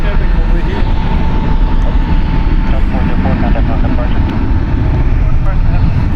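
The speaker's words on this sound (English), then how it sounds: "We have a 777 taxiing to the left of us" Boeing 777 jet taxiing at San Francisco International Airport, a loud steady engine roar that fills the scene continuously, with a faint whine on top.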